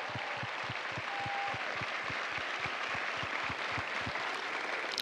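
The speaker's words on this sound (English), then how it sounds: "a round of applause for the Marines who make Marines" A graduation crowd honoring Marine drill instructors at boot camp in San Diego claps continuously through the whole stretch, a dense, distant roar of applause with a faint sharp whistle partway through.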